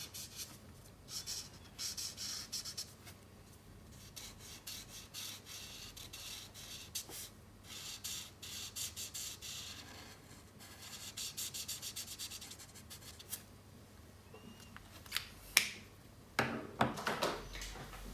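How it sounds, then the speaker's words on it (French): A marker colouring in a drawing on paper with warm grey ink, with soft scratchy rubbing strokes that come in close irregular bursts and pauses and grow a little busier toward the end. "Avec le gris chaud neuf, on peut colorier ici toute la partie du casque."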